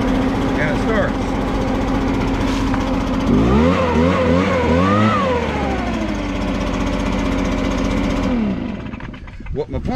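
A Trac Vac 854 leaf vacuum on a lawn tractor cranks and catches, its small engine rising to a steady, close running drone with pitch swings as it revs, then cutting away near the end.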